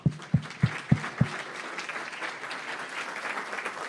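Guests at a radio station gala break into applause after five heavy, evenly spaced low thumps, the clapping settling into a steady, full-room patter that carries on alone.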